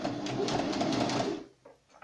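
Domestic sewing machine running steadily while stitching a second seam on a fabric protective mask, a continuous close whirring hum for about a second and a half, then stopping into quiet with faint handling noises.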